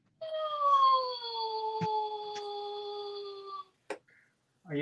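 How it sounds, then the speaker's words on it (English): A dog howls close by in a long, wavering, drawn-out tone that slides slowly downward and then breaks off into short whimpers and yips, with a couple of faint knocks in the background. "Shut up, dog."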